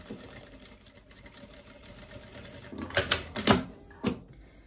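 A sewing machine stitches a small seam on the sleeve of a garment in a few short, quick bursts after a quiet lead-in.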